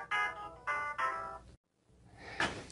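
A phone rings during a live stream, three repeated electronic ringtone bursts in a steady rhythm, then a brief silence and a faint rustle, moderately quiet with no talk.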